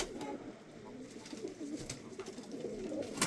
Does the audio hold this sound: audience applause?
no